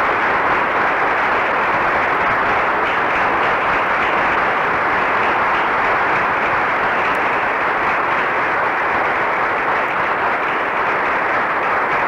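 Sustained, even applause from a large audience of party members in a Hungarian parliamentary session in 1952, a dense wash of clapping that holds steady and loud throughout without a break.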